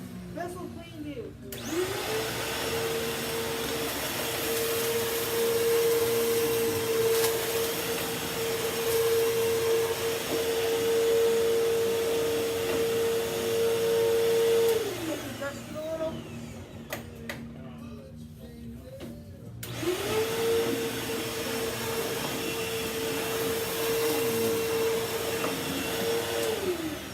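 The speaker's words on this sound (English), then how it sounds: "Bissell Cleanview." A Bissell CleanView vacuum cleaner runs indoors in two long bursts, a close, steady motor roar with a high whine, briefly switched off in between, with faint voices in the background.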